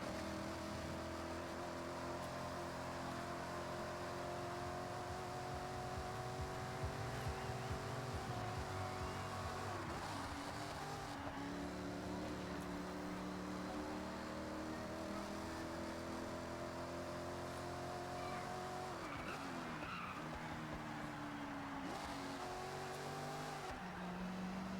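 In Forza Horizon 6, a rally car with what is thought to be a five-speed gearbox drones as its engine rises in pitch through each gear and drops sharply on upshifts, a steady game sound with no talking over it.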